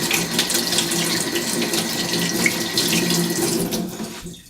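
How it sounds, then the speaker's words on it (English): Cold water runs steadily from a tap into a sink, a close, continuous splashing stream with soft rubbing of hands underneath, fading out at the end. "Run cold water and rub your hands against a piece of stainless steel."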